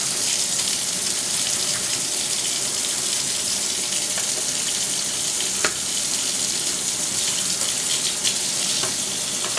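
Tap water runs steadily from a faucet while a makeup brush is rinsed clean of soap, foundation and oil, a continuous close hiss with no talking.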